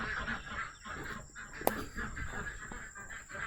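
Ducks quack and honk near their freshly filled backyard swimming pool on a homestead, a steady string of nearby calls with one sharp knock in the middle.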